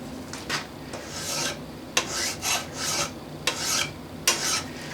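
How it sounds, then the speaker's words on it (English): Metal being filed with a single cut mill file, a series of rasping strokes in an uneven rhythm, each a short scraping burst with a sharper scrape at its start, close and clear with no talk. "use a finer file, which is a standard single cut mill file like this."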